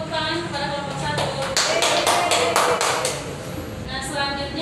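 A class of children claps hands for a student group in a primary school lesson, a dense run of close, sharp claps lasting several seconds over a murmur of voices.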